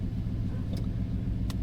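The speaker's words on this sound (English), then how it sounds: "I'm backing up to this little old boat" Steady low vehicle engine rumble close by as a truck backs up toward a small Bass Tracker fishing boat, with a couple of faint brief clicks on top.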